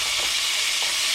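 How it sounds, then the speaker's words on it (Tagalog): Tomatoes dropped into a hot frying pan for an Ilocano sponge gourd (kabatiti) dish, giving a loud, steady broadband sizzle with brief stirring scrapes, close up and with no talking. "ilagay na natin yung kamatis."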